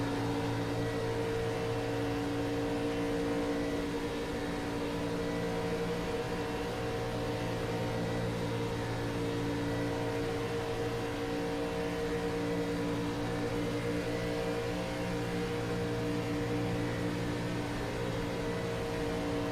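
Retro stock cars race on the Daytona track, a sustained droning engine roar with steady tonal hum, continuous and fairly distant, with no voices over it.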